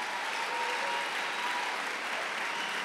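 Steady, dense applause from a sizable church congregation, a continuous wash of clapping with no voices standing out.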